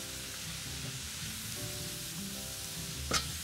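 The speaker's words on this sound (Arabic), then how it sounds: "نقلب كله مع بعضه" Freekeh is stirred together in a hot pot, giving a soft steady sizzle with low scraping movement and a brief louder clink near the end.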